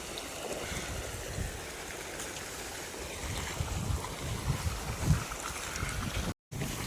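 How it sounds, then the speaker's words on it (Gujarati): Irrigation water rushes steadily through channels between crop beds in a field, a continuous broad wash of flowing noise with a short dropout near the end. "આ બે માં હાલે પાણી"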